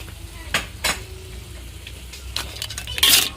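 Crab in Padang sauce is stirred in a pan, with a utensil scraping and clinking against the metal in several separate strokes over a soft simmering sizzle, close and fairly loud, with no voices.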